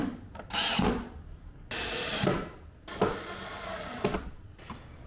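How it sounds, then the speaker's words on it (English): A drill bores holes in wood for threaded inserts inside a U-Haul box van conversion, in three or four short, fairly quiet bursts. There is no talking. "what I'm doing here is drilling holes for our threaded inserts"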